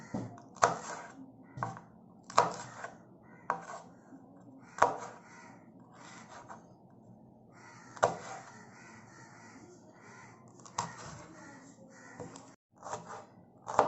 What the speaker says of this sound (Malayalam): നമ്മൾ പച്ചമുളക് രണ്ടായിട്ട് കട്ട് ചെയ്തിട്ട് അതിൻ്റെ നെടുകെ കട്ട് ചെയ്തെടുക്കണം